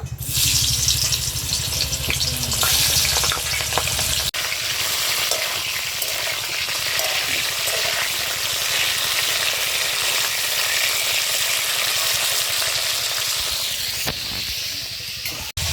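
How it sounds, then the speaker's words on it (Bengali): Cauliflower florets coated in salt and turmeric fry in hot oil, a loud, dense, steady sizzle that crackles without pause for the whole stretch, with a brief stir or shift near the start and again near the end. "তেল গরম হয়ে গেছে এই ফুলকপিগুলো ভেজে নেব"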